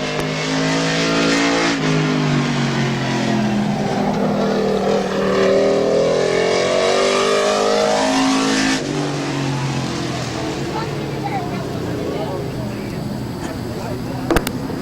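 A number 22 stock car driven by Keith Anderson laps Midvale Speedway during qualifying, its engine droning loud and steady as it sweeps past, with a faint voice over the roar.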